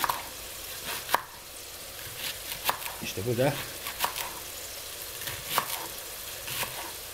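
A knife taps rhythmically on a cutting board, chopping leeks at an uneven pace, with a brief spoken remark partway through.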